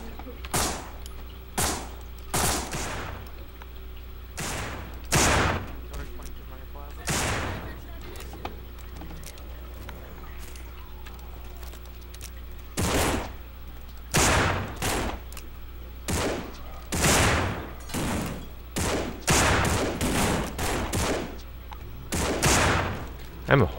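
Gunfire in the zombie survival game No More Room In Hell, loud sharp shots fired singly and in quick clusters with pauses between, close and prominent, with some game ambience underneath.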